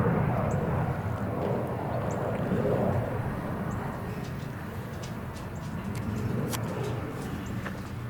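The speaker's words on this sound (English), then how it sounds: "Cool airplane appreciation moment." An airplane passes overhead near White Settlement, Texas, a broad steady engine roar filling the outdoors, loudest early and slowly fading, with a few faint bird chirps.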